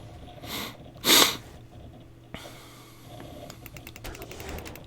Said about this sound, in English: I apologize for the sniffling allergies